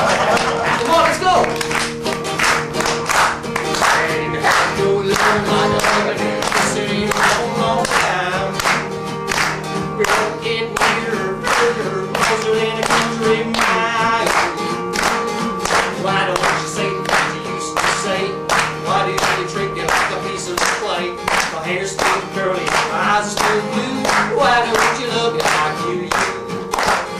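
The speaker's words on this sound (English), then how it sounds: "Come on, everybody. Let's clap along." An audience claps along to a song at a one-man stage show, sharp rhythmic claps in a steady beat under music and singing, going on evenly for the whole stretch.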